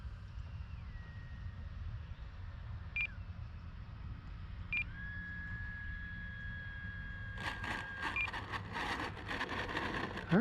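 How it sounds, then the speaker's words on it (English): Electronic beeps sound faintly several times at intervals, with short chirps and a sustained tone over a low background hum and breezy noise, while an RC model plane of a Tecnam design flies nearby. "Somebody's beeping somewhere."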